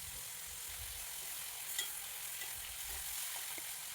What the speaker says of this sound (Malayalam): 2 സവാള ഇത് ചേർത്ത് 2-3 മിനിറ്റ് നേരം ഒന്ന് വഴറ്റിയെടുക്കാം.